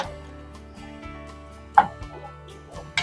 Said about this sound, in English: Okay, so the cranberries are starting to pop a little.